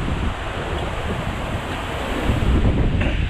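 Strong wind buffets the microphone at a go-kart track, a loud, steady roaring rush that swells slightly toward the end, with no voices heard.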